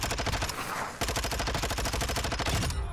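Sustained rapid automatic gunfire in the video game Modern Warfare 2 DMZ, a loud dense stream of shots over three seconds with only a brief dip in intensity, and no speech.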